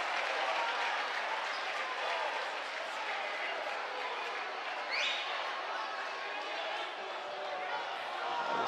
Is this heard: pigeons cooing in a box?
no